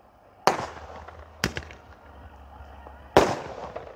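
Cock Joy 240 S sky shot fireworks burst overhead in three sharp, loud cracks at irregular intervals, each fading into a short echo over a quiet outdoor background.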